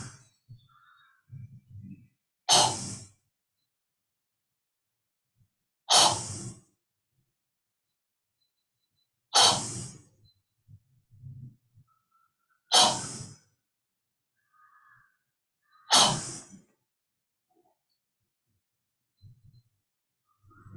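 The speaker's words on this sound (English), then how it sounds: "air comes out through the nose as well as through mouth, and it helps you to completely empty your lung fast and relax" Five forceful breaths pushed out through the nose and mouth in a breathwork exercise, evenly spaced about three seconds apart. Each exhale is close and loud, with soft inhales and quiet stretches between them.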